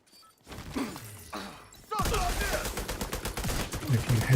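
Shotgun fire in a PvE shooter video game, heavy blasts and rapid overlapping gunfire with mechanical clatter, loud and continuous after a brief quieter start.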